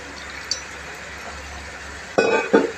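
A spoon clinks against a glass bowl while cornstarch is mixed with water, with a faint tap early on, then two close, bright clinks near the end.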